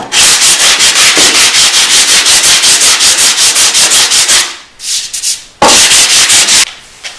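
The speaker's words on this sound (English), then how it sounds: "we want to go in and sand off the excess filler" Rapid rhythmic sanding strokes rasp loudly and steadily over excess wood filler on a wood inlay, pause briefly with a few lighter passes, then resume at full strength before trailing off.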